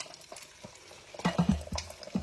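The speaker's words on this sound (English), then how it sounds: "let's turn it over this way and see my eggs cooking" Eggs frying in a small skillet, a sizzle under irregular stirring and knocking sounds that grow louder partway through.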